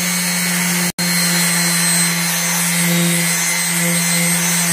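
A sanding machine with coarse, aggressive sandpaper grinds a steel file into a dent-repair tool, a loud steady motor drone with a constant abrasive hiss, briefly cutting out near the start, then running on.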